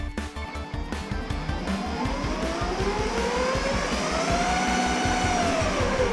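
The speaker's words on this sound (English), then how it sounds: "These are brushless motors and they run pretty quick." Brushless motors spin up the wheels of a giant Hot Wheels RC car fitted with an Arduino controller, producing a loud rising electric whine that climbs in pitch over several seconds above a pulsing low rumble.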